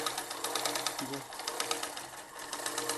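A sewing machine runs steadily for the full stretch, stitching the front neckline of a kurti. Its rapid, even needle chatter sounds close and fairly loud, with a brief faint voice partway through.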